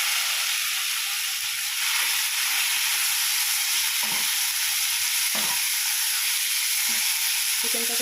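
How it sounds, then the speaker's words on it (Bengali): Chicken frying in white oil in a wok for restaurant-style Hakka noodles, a steady loud sizzle and hiss with occasional stirring clatter throughout, no talk. "চিকেনটা ঢেলে দিচ্ছি। চিকেনটা আমি ভেজে নেব।"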